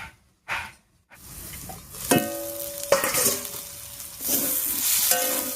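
Pumpkin greens and potato sauté in a wok with loud, crackling sizzles that swell as a spatula scrapes and stirs, several ringing metal scrapes against the pan, after a brief quiet opening.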